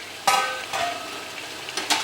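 A spoon stirs mutton korma with tomatoes and green chillies in a pan. A few scraping strokes fall at uneven intervals over a soft sizzle, heard close, with no speech.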